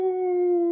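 A person imitates a wolf howling, giving one steady, sustained vocal howl close to the listener that holds a single pitch throughout and breaks off abruptly at the end.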